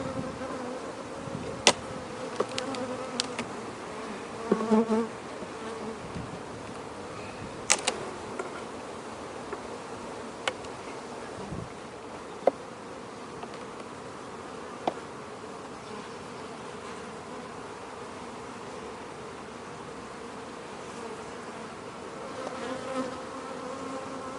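Carniolan honeybees buzz steadily in an open hive, a dense, continuous hum with a few brief clicks and knocks from handling the frames, and no talk.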